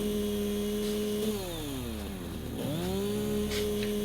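A video-game chainsaw in Satisfactory clears plants with a continuous close buzzing engine drone, its pitch sagging as it bites into growth and then rising back to a steady whine; no talking.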